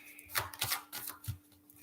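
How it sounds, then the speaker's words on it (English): Tarot cards being shuffled by hand, a run of soft papery riffles and slaps in uneven bursts, close and fairly quiet with a faint steady hum beneath. "let me do a shuffle."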